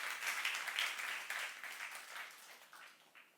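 A church youth-group congregation claps after a sermon point, a soft, fairly distant patter of many hands that gradually fades out over a few seconds.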